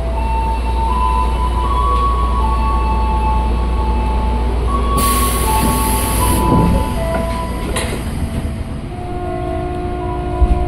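Tokyo Metro 6000-series commuter train running on the double-tracked Cikarang line between Jatinegara and Bekasi, a loud steady rumble of wheels on rails with a bright squeal or horn burst midway.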